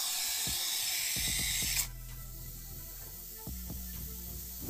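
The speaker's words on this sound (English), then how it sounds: "Applying spray foam inside a wall." Spray foam sprays into a wall cavity with a loud, close, steady hiss that cuts off abruptly partway through. After it, quieter low hums and a couple of knocks follow.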